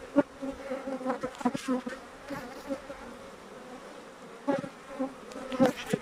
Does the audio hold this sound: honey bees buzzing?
yes